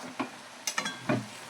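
A spoon scrapes through a raw-milk sweet mixture cooking in a pan for chik vadi, giving about four separate stirring strokes over a soft sizzle, close and fairly quiet.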